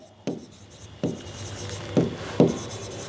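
A pen writes on paper while accounting figures are filled into a financial statement, four distinct scratchy strokes spaced irregularly, close by and clear, over a quiet room.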